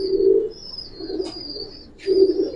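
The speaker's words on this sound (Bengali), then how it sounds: "এটা সম্পূর্ণ কালো দমের একটা কবুতর" A black pigeon coos close by in low, resonant phrases, one at the start and another near the end, with a quieter murmur between them.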